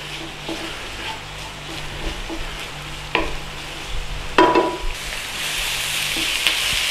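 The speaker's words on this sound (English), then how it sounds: "and a bit of oil. In with our onions. A little stir around." Onions fry gently in butter and oil for a Scottish pie filling, a low continuous sizzle broken by a few clattering stirs and scrapes of a utensil in the pan, close up with no talk.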